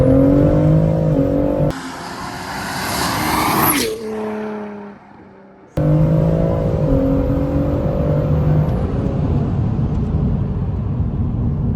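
Tuned BMW M140i, a 1 Series, driving off and accelerating hard, its engine note climbing through gear changes with a brief drop and lift in between, loud and close throughout.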